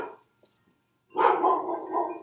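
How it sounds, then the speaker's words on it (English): Dog barking outside, a single sharp bark then a drawn-out howling yelp lasting about a second, fairly close and clear, after a brief quiet pause. "You hear Milo barking outside?"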